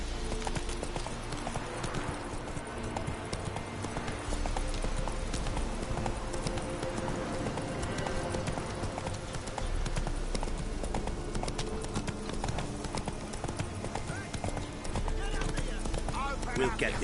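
Horse hooves clip-clop steadily in The Witcher 3, a continuous rhythmic trot running the whole time beneath spoken game dialogue and background music.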